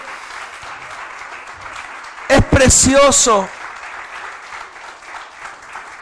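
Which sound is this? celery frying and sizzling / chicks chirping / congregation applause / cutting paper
congregation applause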